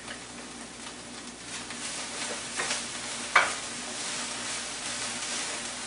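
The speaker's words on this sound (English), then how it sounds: "Now we're going to throw in the garlic." Garlic sizzles with kale and olive oil in a pan, giving a steady crackling fry hiss with stirring scrapes and one sharp clink partway through, no talking.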